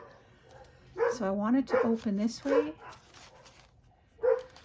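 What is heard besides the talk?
neighbour's dog barking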